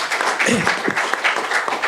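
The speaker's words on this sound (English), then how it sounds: "So a huge round of applause." An audience applauds scholarship donors at a community college board meeting, with steady mid-level clapping throughout and a voice briefly audible underneath.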